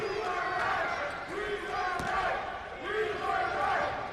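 Utah State home crowd at a college basketball game against North Texas roars and shouts in surging waves during free throws, with a sharp thud near the middle and a commentator talking over it.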